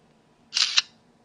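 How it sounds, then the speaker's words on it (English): Single press of a digital camera's shutter button, a short close mechanical click-whir lasting about a quarter second, ending in a sharper snap, alone in a quiet room. "Use the camera shutter button."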